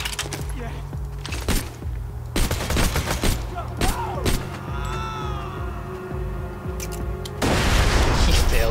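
Gunfire in the shooter game Borderlands 2: several sharp shots and bursts ring out amid game effects, ending with a louder sustained rush of noise, while players chatter over the action.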